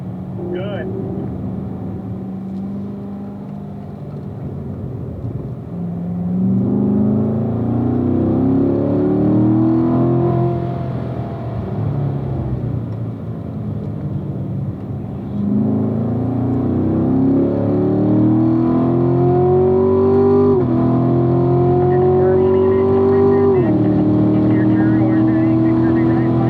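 A Corvette engine accelerates on a race track at a driving school, its loud, close roar climbing in pitch through repeated gear pulls over many seconds, with a voice talking over it.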